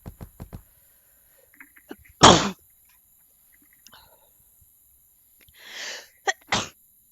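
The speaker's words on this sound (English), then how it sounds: "I gotta sneeze. It snuck up on me." A single loud, close sneeze bursts out alone during quiet game play, followed a few seconds later by a softer sniffly outbreath and a sharp short sound.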